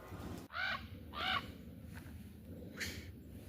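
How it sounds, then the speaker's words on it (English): Crows caw outdoors during a hunting outing: three loud, harsh caws at uneven intervals, the first two close together and the last after a pause, with a faint fourth call between, over a soft outdoor background. "Crows."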